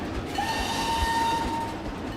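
A train pulling into a station in the Planet Coaster 2 theme park game, a loud rolling rumble with rhythmic wheel thumps and a sustained high whistle-like tone through the middle, no voices.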